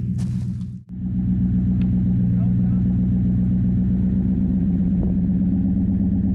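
A pickup truck engine roars at steady, heavy revs while pulling over a big ash tree, a deep continuous rumble with wheel spin, loud and close throughout after a brief dip near the start.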